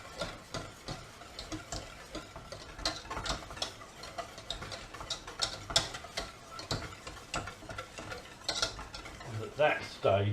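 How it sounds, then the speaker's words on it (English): Mashed potato being stirred and worked into fish cooking liquor for a fish soup, a steady run of close scraping and clinking utensil-on-pot strokes with no voices. "we're going to start amalgamating our mashed potato with the fish cooking liquor"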